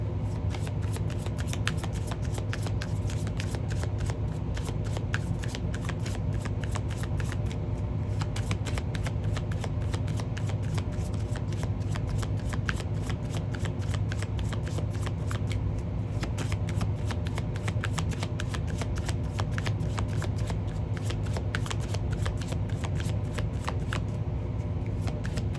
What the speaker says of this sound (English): Break these cards up.